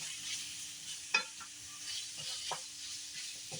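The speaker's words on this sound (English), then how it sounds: "And so we'll just stir that around." Taco-seasoned fajita filling is stirred in a pan with a soft, low sizzle, broken by a few scraping strokes of the utensil.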